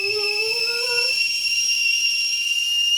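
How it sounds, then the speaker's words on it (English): A whistling kettle on the boil sounds a steady, piercing two-tone whistle, with a lower rising tone that fades out after a second, heard close and alone over a faint hiss. "Boiling kettle! Woohoo! Let's try not to melt the whistle off this one."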